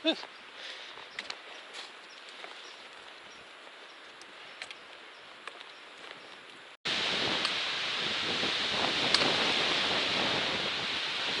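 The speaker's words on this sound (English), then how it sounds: "never mind, there come gusts." Steady broadband wind roar from gusts in the Chairback Mountains of the Appalachian Trail's 100-Mile Wilderness rises abruptly and holds, loud and close, after a quieter stretch of faint rustling and scattered small sounds.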